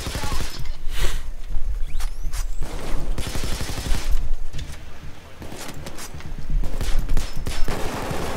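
Sustained bursts of player gunfire in Payday 2, loud and close, with rapid repeated shots broken by brief pauses and overlapping battle noise.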